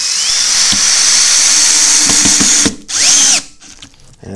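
A compact 10.8 V cordless drill driver drives screws into pallet wood, giving a steady high whine with short bursts and clicks, then a brief second run, loud and close.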